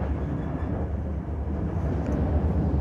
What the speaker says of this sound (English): Pretty neat train though.